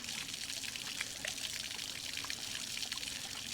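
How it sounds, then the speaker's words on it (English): A garden hose runs water into the fuel tank of a seized 1970 Honda CL100, a steady hissing, splashing rinse with no break, fairly faint and with no voices. "I'm going to put this hose in here and just let it rinse itself out."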